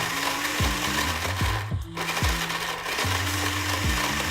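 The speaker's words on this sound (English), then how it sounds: "Now let's turn the blender on." A blender whirs in short bursts, its motor pitch rising and falling as it starts, stops and revs again, close and loud.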